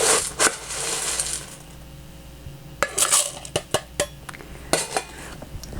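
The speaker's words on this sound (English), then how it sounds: "let's put in about 1 scoop of ice into this bottom part" Ice cubes scooped into the metal base of a Hawthorne shaker, a burst of hard clattering and rattling followed by several distinct clinks and settling knocks, close and loud with no talking.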